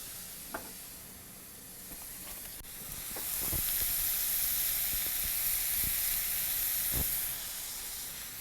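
Mushrooms fry in a pan of oil seasoned with pepper and salt, giving a continuous close sizzle that grows louder midway, punctuated by occasional sharp clicks from stirring.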